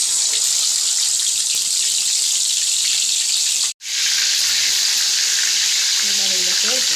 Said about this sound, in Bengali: এইবার আমি এগুলোকে তেলে ভাজবো। দেখো তেলে দিয়েছি, এবার এটাকে আস্তে করে ছাড়বো।